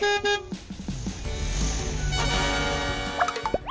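A cartoon food truck horn honks in a kids' fairytale scene, a couple of short toots followed by a sustained, bright musical honk that holds steady before ending with a few quick rising chirps.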